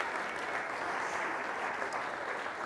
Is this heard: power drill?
no